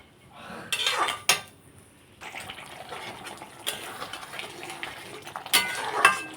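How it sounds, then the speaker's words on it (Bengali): A spatula scrapes and clatters in a pan as spices are stir-fried with potatoes, giving a few sharp, close metallic strokes with softer scraping between and no talking. "এখন আমি আলুর সাথে ভালোভাবে মশলা কষিয়ে নেব।"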